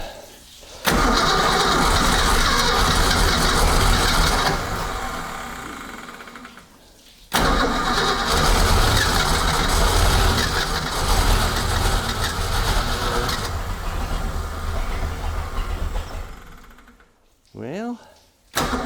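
The engine of a 1976 Ski Nautique boat cranks and starts up loud and close, running roughly, cutting out briefly and catching again before dying down near the end, with people talking faintly in between.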